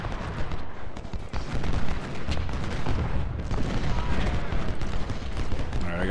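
Artillery and rifle fire from a Civil War battle at Cold Harbor in the Ultimate General game rumble on continuously, with booming cannon and crackling musketry heard close and loud.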